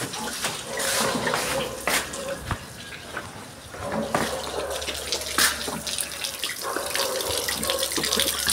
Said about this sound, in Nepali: पानी चाहिँ आउँछ र पानी भर्नु पर्यो